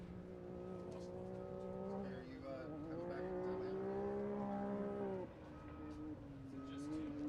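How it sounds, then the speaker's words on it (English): A Can-Am off-road racing vehicle running a qualifying course at a national off-road championship, its engine droning steadily with shifting revs and a brief dip, heard at a distance under crowd and announcer noise. "Hot on course now is Caprera, I believe"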